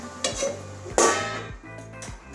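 A lid is set on a cooking pot of water lily curry, giving a few metallic clinks, the loudest a sharp clatter in the middle, over a faint simmer.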